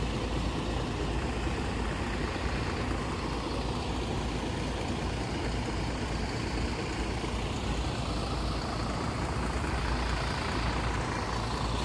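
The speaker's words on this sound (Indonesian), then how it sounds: "Ini bis Sindoro Satria Mas jurusan Bogor Ponorogo" A Sindoro Satria Mas intercity bus, running the Bogor–Ponorogo route, idles at a night rest stop at RM Kedung Roso. A loud, steady diesel rumble holds close and unbroken throughout, with no talking.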